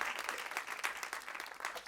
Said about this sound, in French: on peut t'applaudir, Émilie.